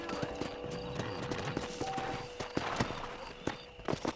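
Horse hooves clip-clop at a walking pace in the video game Red Dead Redemption, an even run of close hoofbeats with brief game sounds around them.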